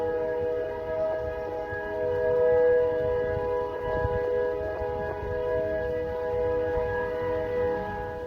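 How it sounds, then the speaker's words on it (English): A civil defense siren sounds the start of Shabbat, holding steady tones that ring out far and wide over a low rumble for the whole stretch, with no voices. "There's a siren announcing the beginning of the Shabbat."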